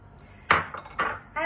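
A spatula stirs a gelatin mixture in a dish for panna cotta, giving a few short scraping, clinking strokes against the dish with quiet pauses between them.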